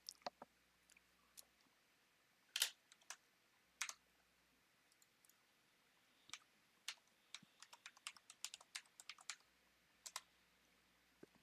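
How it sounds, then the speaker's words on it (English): Someone taps on a loud computer keyboard in scattered, irregular clicks and short bursts of keystrokes in a quiet room, close and crisp. "I have a really loud keyboard,"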